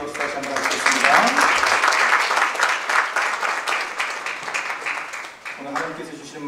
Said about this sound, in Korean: 하나님께 영광의 박수 찬양대에게 경례의 박수 다시 한번 하시겠습니다.